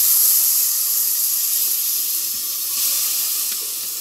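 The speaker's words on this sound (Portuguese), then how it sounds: "Agora eu vou colocar o arroz." Steady bright hiss of rice added to sizzling sautéed onion in a hot pan, continuous and fairly close, with no talking.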